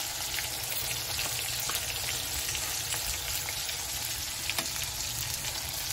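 Steady crackling sizzle of tomatoes and spices frying in a hot pan, continuous and close, with occasional louder pops and no talking.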